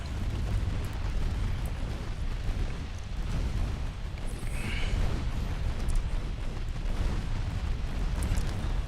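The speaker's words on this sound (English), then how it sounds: "I really want the secondary guns to keep pummeling him." Warship secondary guns firing in the naval game Ultimate Admiral Dreadnoughts, a dense continuous rumble of overlapping booms and blasts with no pauses.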